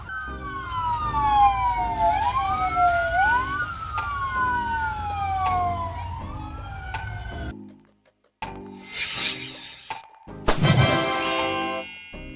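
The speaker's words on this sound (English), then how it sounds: "A small command vehicle used by fire team leaders to arrive early, assess the situation, and make initial decisions" A fire command vehicle siren wails in rising and falling sweeps, loud and close. It cuts off, then brief mechanical clunks and a short, harsher burst of siren or horn follow.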